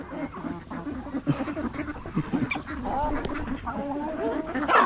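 Ducks quack in rapid overlapping bursts at close range among other poultry, with a few chicken-like clucks mixed in and faint background voices.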